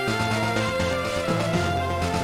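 Exeggcute's cry from the Pokémon Leaf Green game, a short run of buzzy electronic chirps over game music, steady and moderately loud, with no talking.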